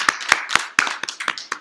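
A church congregation gives a clap of praise at a year-end service: sharp, distinct handclaps in a fairly steady rhythm, close and bright, with no talking over them.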